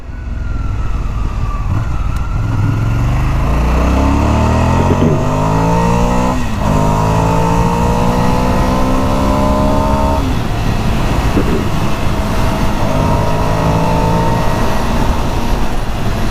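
A 2017 Ducati Scrambler motorcycle on a test drive, its engine loud and close as it climbs through the revs, drops back with each gear change, then pulls steadily again under constant wind rush.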